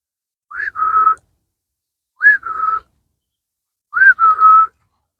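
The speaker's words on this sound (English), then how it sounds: "I like to whistle or something when I do it." A person whistles three separate times as a vocal cue to a horse during foundational groundwork, each a short rising note followed by a steady held tone, clear and close with quiet gaps between.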